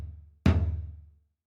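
A single deep organic-percussion tom one-shot (Tom 06) in Ableton Live 12 strikes once with a sharp attack and a low, ringing, pitched body that decays over about a second, then silence.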